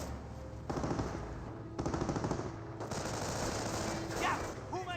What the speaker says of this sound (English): Rifle squad does see a bit of a volley there